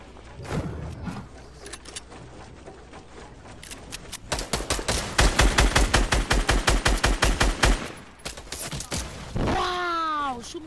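SCAR rifle fire in a video game comes as a fast, evenly spaced volley of loud close shots, with softer game sounds before and a rising whooshing effect after.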